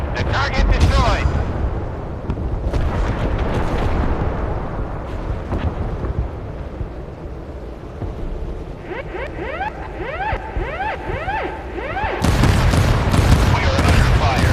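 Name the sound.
warship missile and gunfire, video game Force of Warships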